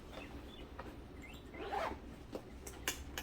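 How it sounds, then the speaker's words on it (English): A zipper is pulled along a large zipper pocket on a sewn fabric bag, a few short rasping strokes up close followed by a longer, louder pull and quick tugs, with no talking. "on the opposite side here, we've got a really large zipper pocket"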